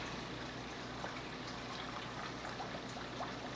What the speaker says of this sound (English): And then I'm just going to pour it over the top